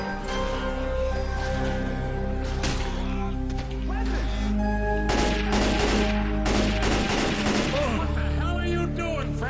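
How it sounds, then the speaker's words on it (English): An enemy fires repeated gunshots in a video game, sharp cracks coming in clusters over a sustained musical drone, with people talking throughout. "the dude keeps shooting me"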